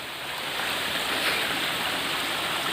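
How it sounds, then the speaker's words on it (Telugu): A waterfall roars steadily as broad, continuous rushing water, fairly loud and close, with no voices over it. "మన వాటర్ ఫాల్ కనిపిస్తుంది కదా"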